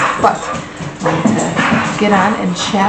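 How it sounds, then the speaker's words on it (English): Dogs whimper, yip and bark intermittently at moderate distance while someone talks over them throughout. "I apologize for my dogs"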